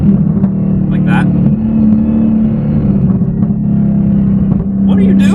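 A Dodge Hellcat engine drones with a steady, low, throaty rumble throughout, close and fairly loud, while people talk over it.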